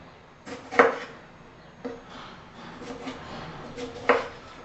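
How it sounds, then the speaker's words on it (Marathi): Tomatoes being cut with a knife on a board, with a few sharp, close chopping knocks spread out and separated by quieter handling sounds, with no talking. "आता प्रथम आपण काय करणार आहोत टोमॅटो चिरून घेणार आहोत"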